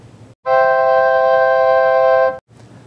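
A church organ plays the piston 1 combination on memory level 2, a single bright sustained chord of about two seconds that starts and stops abruptly, surrounded by faint room noise.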